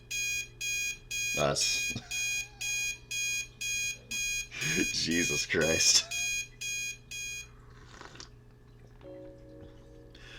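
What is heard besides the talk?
alarm clock ringing in the video game Snoot Game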